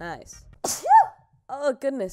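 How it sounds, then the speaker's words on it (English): A single sharp human sneeze bursts out in the middle, with brief speech before and after it. "that was a sneeze."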